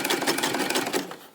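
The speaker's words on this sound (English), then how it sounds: "I'm going to back stitch it too, just in case. And then go forward again." Sewing machine back stitching and then running forward again while finishing the top of a coiled rope bowl, a close, steady rapid needle chatter lasting just over a second before slowing.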